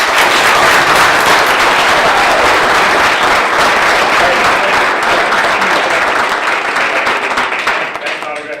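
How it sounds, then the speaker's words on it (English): A loud, sustained round of applause fills the room at a Yorkville council meeting, dense clapping from a crowd that holds steady for several seconds before easing off, with some voices beneath. "One more round of applause."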